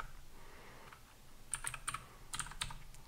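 Close, quiet keystrokes tap on a computer keyboard in short irregular bursts, with a few sharper clicks in the second half and no talking.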